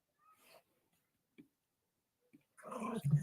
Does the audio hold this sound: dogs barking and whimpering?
yes